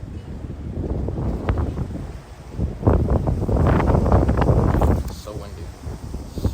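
Wind buffets the microphone in heavy low rumbling gusts that swell and ease, with muffled sounds mixed into the roar.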